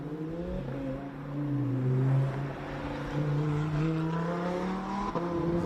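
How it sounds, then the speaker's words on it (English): A convertible Lamborghini drives past at a roadside event, its engine revving and rising through the gears in clear harmonic sweeps, loud and close, with no talk over it. "We'll just have a listen to this Lambo for a sec."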